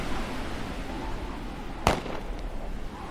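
A single sharp gunshot sound effect cracks once, clear and fairly loud, over a constant windy outdoor background in an audio drama set in the Canadian Rockies.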